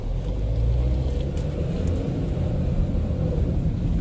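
A 2008 Ford Fusion pulls away in drive gear with a low, steady engine rumble and road noise, close and continuous with no talking.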